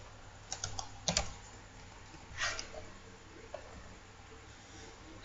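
Keys on a computer keyboard clack in a few scattered quick taps while a Linux user-add command is entered on a CentOS 7 server, faint and close, with a louder final keystroke.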